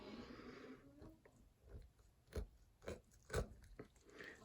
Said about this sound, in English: it makes a great grizzly crunchy sound